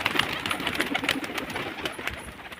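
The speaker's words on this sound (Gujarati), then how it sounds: "આ તો જા આપણું મોટું કબૂતર છે એટલે એ બહુ ઉડી શકતું નથી" A large domestic pigeon coos softly amid other faint bird chirps and light background noise; no one speaks.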